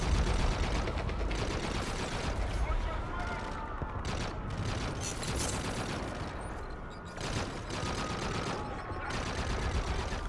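Rapid Call of Duty gunfire crackles in dense automatic bursts and scattered shots throughout, fairly quiet and steady, with voices speaking over the shooting.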